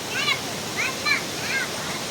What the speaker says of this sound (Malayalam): നമ്മുടെ ഈ റിസോർട്ടിൻ്റെ സൈഡിൽ കൂടെ ഒരു പുഴ ഒഴുകുന്നുണ്ട്